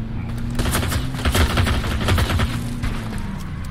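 Rapid bursts of game gunfire and heavy cannon booms in Totally Accurate Battlegrounds, dense and loud throughout, with a steady low drone underneath.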